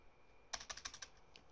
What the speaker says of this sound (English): Yes, I'm gonna play my same keyboard.